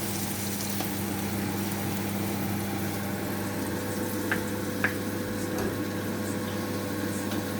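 Beef sirloin stew with peppers, onions and leeks cooking in a pot, a steady low sizzle and bubbling hum that stays even throughout, with a few faint pops and no talk.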